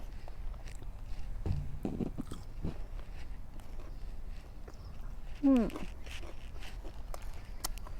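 Someone bites into and chews crispy KFC Original Recipe fried chicken skin, giving soft crunches close to the microphone. A person talks quietly in the background.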